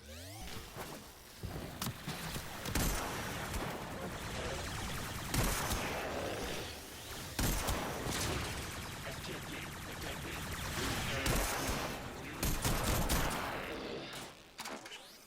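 Rapid bursts of energy-pistol fire from the Staticor in Warframe, loud and dense, with repeated sharp discharges and whooshing blasts running almost continuously through the whole stretch.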